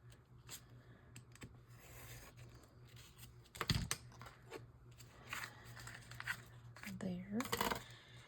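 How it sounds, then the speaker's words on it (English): Scissors trimming the edge of a paper card: soft snips and paper rustles sound close and quiet, with a few sharper cuts near the middle and end under faint background hum. "I need to trim this edge."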